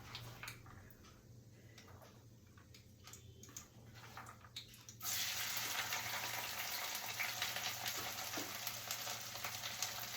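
Onions dropped into hot oil in a pan already tempered with nigella seeds and dried red chillies, breaking into a sudden loud, steady sizzle halfway through after quieter crackling.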